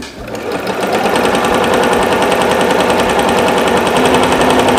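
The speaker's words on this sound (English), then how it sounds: "Put your presser foot down and continue sewing." Sewing machine stitching fabric at a steady, fast, even rhythm, close and loud, running continuously after a brief start.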